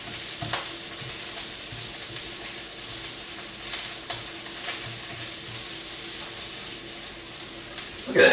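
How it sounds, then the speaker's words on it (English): Spinach and kale sautéing in butter in a pan, a steady close sizzle with occasional stirring scrapes and a louder clatter at the end. "I really do enjoy the smell of fresh cooking spinach and kale. Although it could also be because it's sauteing in butter right now too."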